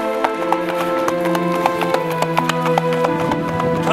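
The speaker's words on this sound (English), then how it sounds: "Tölt is the gait which the Icelandic horse is so famous for." Icelandic horse moving in the four-beat tölt gait, its hooves striking in a quick, even rhythm of sharp taps close by, heard over a steady tonal background hum.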